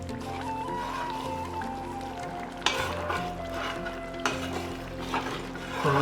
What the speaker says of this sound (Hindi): अब इसको हम खोल के ही भूनेंगे।